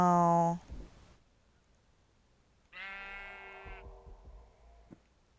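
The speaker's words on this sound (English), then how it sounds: "That was a dark sheep." Two bleats from a Minecraft sheep in a video game, the first loud and short, the second a longer wavering call after a pause, with faint clicks in between.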